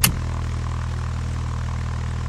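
A Cessna 172S light propeller airplane drones steadily and loudly from its engine throughout, with a brief sharp click at the very start.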